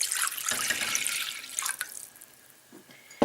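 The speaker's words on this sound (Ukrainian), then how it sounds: "Ставимо кастрюлю на середній вогонь, додаємо сюди 500 мл води, півлітра літра, півлітрову банку." Water runs into a saucepan on the stove, a close tap-like pouring stream that tapers to a few drips near the end, with no voices.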